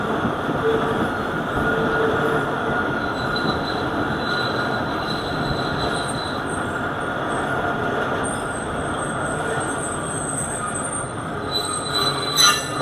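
Marvi Express train in Pakistan running on its first day back, a loud continuous rumble of wheels on rails with squealing tones throughout; no distinct whistle stands out.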